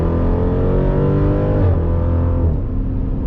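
A Jeep Grand Cherokee SRT with a Borla ATAK exhaust roars loudly from inside the cabin, the engine note rising and then dropping sharply as it downshifts and the revs climb again.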